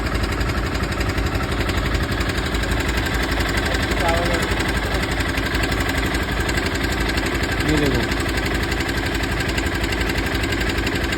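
A Honda CBR250R motorcycle engine idles roughly with a steady knocking rattle and vibration reaching the tank, close by, while someone speaks briefly over it.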